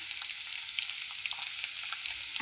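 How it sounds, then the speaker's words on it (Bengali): Steady, close sizzling of chopped garlic and ginger frying in hot oil, a dense crackle with small pops throughout and no talking. "রসুন কুচি আদার কুচিটা একটু হালকা করে ভাজা হয়ে যাবে"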